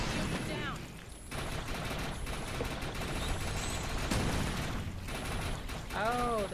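Rapid bursts of gunfire from the co-op video game ChaosNova crackle and rattle as a bug is shot down, mixed with mechanical game effects and a player talking over them.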